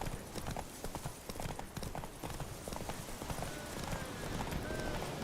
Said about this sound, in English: थोड़ा सांस लेने दे दिया मैंने अपने घोड़े को